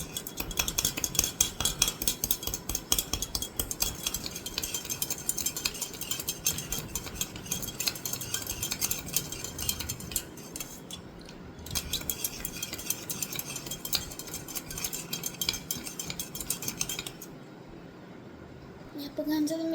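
A spoon stirs a sugar and water mixture in a container, a continuous rapid clinking and scraping that runs almost throughout before briefly stopping, with a voice talking alongside.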